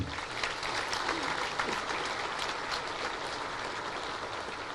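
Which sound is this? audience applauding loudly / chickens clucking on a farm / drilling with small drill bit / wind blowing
audience applauding loudly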